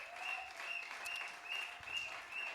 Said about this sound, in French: Acclame très fort pour la gloire de Jésus-Christ.